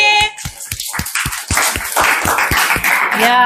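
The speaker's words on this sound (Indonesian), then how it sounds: "Oke, tepuk tangan buat Gani." Students in a classroom give a classmate a round of clapping, distinct claps in a quick, fairly regular rhythm, close and crisp. Voices speak briefly at the start and again at the end.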